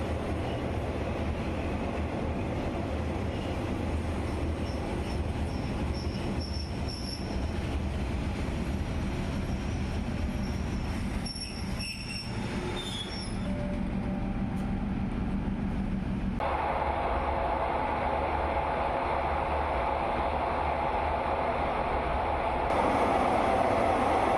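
A train pulls into Don Mueang station in Bangkok on the line from Rangsit toward Bang Sue, giving a steady loud rumble and rolling wheel noise for the whole stretch, with squeaks in the middle and a shift in tone near the end.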